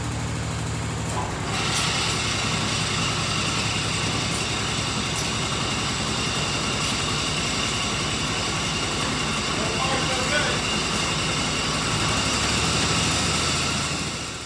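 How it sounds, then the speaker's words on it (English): A tractor's snow blower engine drones loudly, steadily and close by, with a broad mechanical roar and whine that continue throughout without pause. "this tractor and its blower produce the sound that makes iPhones not focus anymore"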